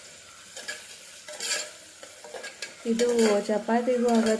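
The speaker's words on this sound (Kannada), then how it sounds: "ಈರುಳ್ಳಿ, ಒಂಚೂರು ಕರಿಬೇವು, ಇದನ್ನು ಸ್ವಲ್ಪ ಚೆನ್ನಾಗಿ ಫ್ರೈ ಮಾಡ್ಕೊಳ್ಳೋಣ." Onion and curry leaves sizzle and crackle in a hot pan while being stirred, with a soft steady fry under occasional utensil scrapes and a voice speaking.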